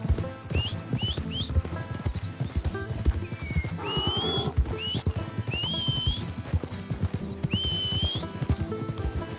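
Steady horse hooves clip-clopping alongside repeated high neighs and whinnies, one longer whinny in the middle, continuing throughout, in the video game Red Dead Redemption 2.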